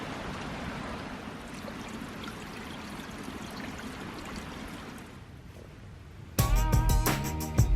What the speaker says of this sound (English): We got this little rocky outcropping here, drizzling down some water.